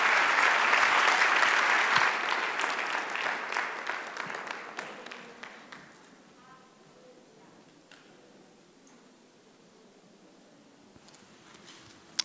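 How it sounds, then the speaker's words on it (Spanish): A church congregation bursts into loud applause that stays full for about two seconds, then steadily fades over the next few seconds, leaving only a few scattered claps and quiet room tone. "Dale un aplauso a nuestro Dios."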